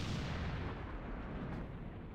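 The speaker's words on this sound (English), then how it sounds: "I think definitely an artillery piece here" Distant, continuous rumble of artillery fire across the Cold Eastern Front trenches in the war game Real Warfare, a dense low booming wash with no distinct separate blasts, heard alone without talk.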